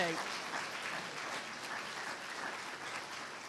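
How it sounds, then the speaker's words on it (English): Audience applause at a high school awards ceremony in a school auditorium, a dense, steady wash of clapping hands that holds evenly for several seconds at moderate loudness. "Let's give them another round of applause."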